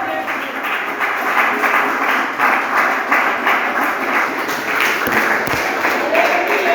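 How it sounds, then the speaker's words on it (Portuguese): A church congregation claps along joyfully in praise, a continuous even wash of many hands at a fairly loud level, with voices heard underneath. "Todos podem se assentar e exaltar o Senhor Jesus com as palmas bem alegres."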